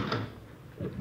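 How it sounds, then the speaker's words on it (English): Short wooden knock and creak of a door being opened, one clear close sound at the start and a softer one near the end, quiet with no talk. "Here, I'll get the door."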